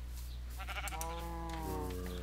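Sheep in the Minecraft video game bleating, a single wavering, nasal baa that swells near the middle and trails off, fairly clear and close over a low steady background hum, with no talk.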